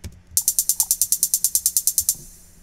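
A hi-hat sample from a drum-and-bass drop plays a fast, even run of about sixteen crisp, closed ticks, bright and close, alone with no talk.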